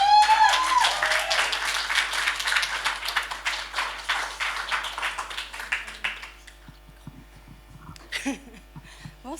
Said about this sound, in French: je vous demande de faire quelques menus applaudissements pour Diana David, s'il vous plaît.